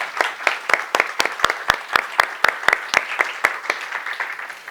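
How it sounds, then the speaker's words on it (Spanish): Audience applause at a pastry talk on shortcrust doughs, a steady stretch of many hands clapping with no voices over it. "Bravo, un aplauso."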